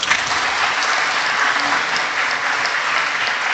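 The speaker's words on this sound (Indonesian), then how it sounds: "tepuk tangan yang meriah untuk beliau" A crowd gives warm applause for an Indonesian coordinating minister for food on a visit to an Islamic boarding school in Banyuwangi. The clapping is loud, dense and sustained, with no voices over it.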